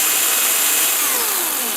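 Milwaukee M18 Fuel cordless chainsaw (2727-21HD) running at steady high speed, a loud continuous electric whine with slowly falling tones, alone with no talk.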